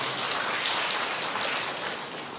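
A church congregation applauds steadily throughout, a dense, even wash of clapping heard at moderate distance with no talking over it.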